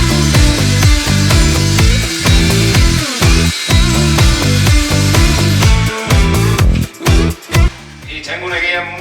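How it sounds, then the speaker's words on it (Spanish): A guided power saw cuts a long 2.32-metre panel for the roof of an Iveco Eurocargo 4x4 truck, a loud, steady rasping drone with rhythmic pulses that briefly drops out near the end before resuming more quietly. "estoy usando una sierra con guía, por lo mismo, para dejar los cortes súper rectos"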